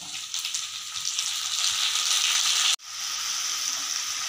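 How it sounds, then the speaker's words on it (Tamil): Onions and tomato fry in hot oil in a pan for a vegetable chapathi roll, giving a steady close sizzle with a brief break near the middle, and no talking. "ஆனியன்லாம் நல்லா கிறிஸ்பியாக ஃப்ரை ஆகிடுச்சு"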